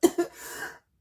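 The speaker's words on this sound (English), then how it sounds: "a bit of a coughing fit there" A person coughs twice in quick succession and then lets out a rougher, drawn-out clearing of the throat, close and fairly loud, ending abruptly in silence.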